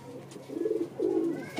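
A pigeon kept by a highflyer fancier coos in two soft, rolling phrases, close and fairly quiet, with a brief third call starting at the end.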